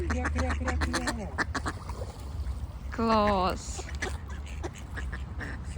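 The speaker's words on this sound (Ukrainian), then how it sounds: "Ось до нас, диви, качечка, бачиш?" Ducks quack in a quick nasal burst nearby in a park, with a person talking over water and outdoor ambience.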